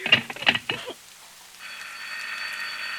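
A telephone in a classic radio drama rings steadily in a continuous electronic tone, following a short burst of indistinct sound; moderately loud and close.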